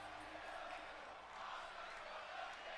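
Arena crowd noise from a WWE 2K23 wrestling video game match, a steady broad roar of chanting fans with no clear distinct voices standing out.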